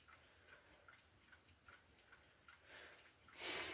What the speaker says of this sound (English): This Ergos has got to be one of my favourite mantle clocks.